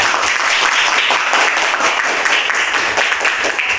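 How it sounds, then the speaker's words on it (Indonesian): A classroom of students claps for a classmate, a loud, close, continuous wash of many hands clapping with no talk over it. "Tepuk tangan buat Dini"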